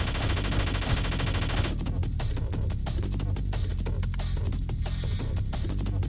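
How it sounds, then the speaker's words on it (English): Dense, ceaseless automatic gunfire from the video game Eve New Generation, a loud continuous fusillade of rapid shots with no talk over it. "The gunfire is ceaseless."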